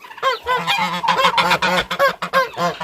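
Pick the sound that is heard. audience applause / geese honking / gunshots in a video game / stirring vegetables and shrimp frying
geese honking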